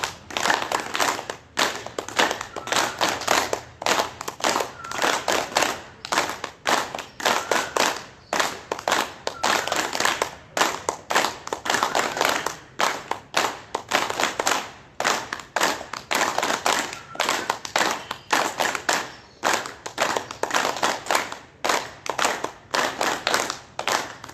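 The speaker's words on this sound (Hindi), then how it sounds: "तालियां एक साथ रिदम के साथ, वैदिक करदल ध्वनि एक साथ शुरू करेंगे।" A group at an early-morning yoga session claps hands together in a steady, fast rhythm, the sharp claps repeating evenly and loudly for the whole stretch with no talking over them.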